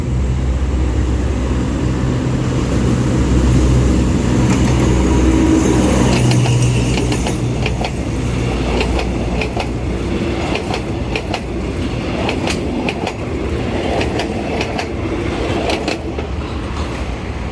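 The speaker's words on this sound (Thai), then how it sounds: "ตอนนี้กลับมาใช้รถจักรเหมือนเดิมนะครับผม" ALSTHOM 4226 diesel locomotive hauling a short five-car ordinary passenger train, a steady loud rumble of engine and rolling wagons with rhythmic wheel clacks passing close by, no voices.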